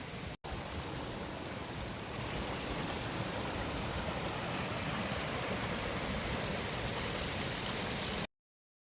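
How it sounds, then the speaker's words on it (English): Steady, heavy rain pours continuously on the Appalachian Trail, a dense even hiss that fills the whole stretch before stopping abruptly. "It's raining again."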